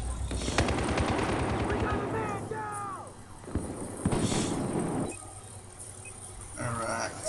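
Rapid machine gun bursts from Battlefield 4 team deathmatch gameplay, sharp rattling volleys repeating through the clip, loud and close, with a voice talking between shots and other distant gunfire and game effects in the background.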